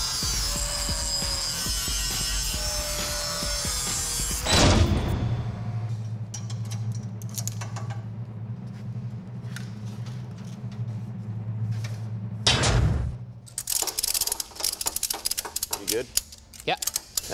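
A power tool grinds and bevels cut steel edges on a 1966 C-10 truck, a harsh loud whine giving way to a steady hum, then a second short burst followed by clanking and scraping.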